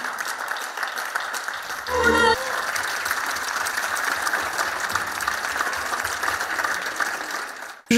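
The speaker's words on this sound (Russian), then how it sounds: "из дворов и с балконов столицы несколько минут звучали аплодисменты в знак признательности" Residents of Moldova applaud doctors from balconies and yards, with distant, diffuse clapping spread across a courtyard as a sustained wash of sound and a brief louder burst partway through.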